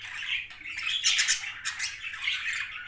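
A budgerigar squawks and chatters repeatedly in shrill, scratchy bursts, close by, with no other sounds around it.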